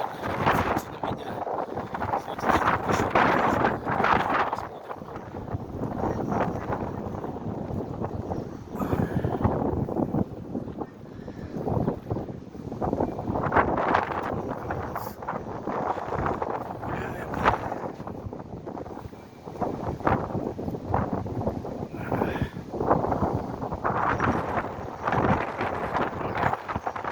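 Strong outdoor wind in Vyborg buffets the microphone continuously, producing loud, rumbling gusts that rise and fall throughout without a break.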